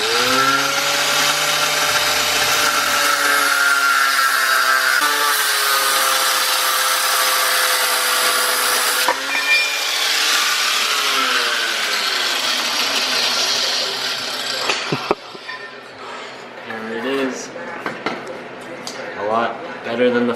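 Power tool grinding or sawing through a worn motor mount on a Wagoneer in a home garage, a loud continuous whine with shifting pitch running nearly throughout, cutting out near the end as people talk.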